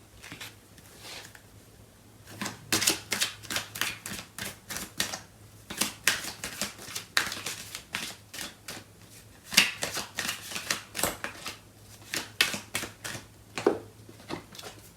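Tarot cards shuffled and flipped during a love reading, a run of quick crisp riffling clicks and soft slaps in bursts, close and fairly quiet, with no talking.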